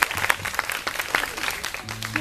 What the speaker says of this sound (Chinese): 然后我们给他掌声鼓励一下